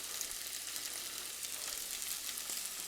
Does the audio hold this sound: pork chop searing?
yes